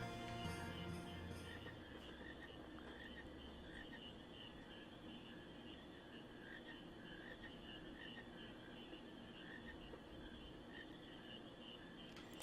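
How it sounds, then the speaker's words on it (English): Frogs in the Final Fantasy 9 video game croak and chirp faintly and continuously over a quiet ambient background, with no speech. "I caught a frog."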